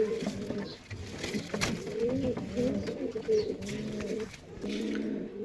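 Giribaz pigeons cooing at a Rajshahi pigeon market, soft repeated throaty coos close by, layered over each other and continuing throughout with faint background voices.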